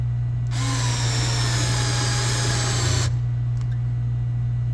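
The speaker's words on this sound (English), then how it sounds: "we use the same adapter and socket, and try to drive that with the Ryobi" A Ryobi 4V cordless screwdriver drives a socket, its motor whirring for about two and a half seconds over a steady low hum, then stopping abruptly, followed by a couple of faint clicks.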